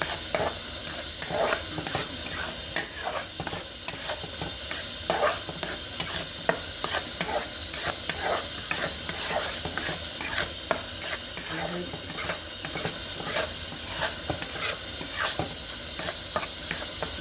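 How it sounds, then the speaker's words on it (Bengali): A mango sandesh mixture is stirred in a pan until it dries, giving a continuous scraping and rubbing sound with a rapid rhythmic texture and a faint hiss, steady throughout. "এটা নাড়তে নাড়তে শুকনো করতে হবে।"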